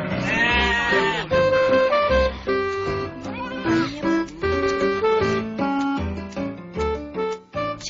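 Goats bleating at a goat market, several loud overlapping calls close by, layered over a dense market din with no clear talk.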